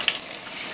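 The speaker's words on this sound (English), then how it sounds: "whenever this is done deep frying" Fish fillets deep fry in hot oil for burritos, a brief, close, bright hiss and crackle of sizzling bubbles with no talk.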